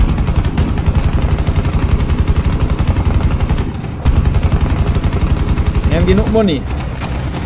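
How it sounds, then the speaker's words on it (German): Rapid, sustained gunfire in Rainbow Six Siege, dense automatic bursts crackling nearly nonstop with a brief lull midway, while players talk over the shooting. "Oh, der ballert jemand."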